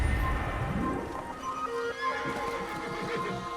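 A horse in the Assassin's Creed video game gives a loud, close whinny, followed by hooves clip-clopping steadily as it moves off.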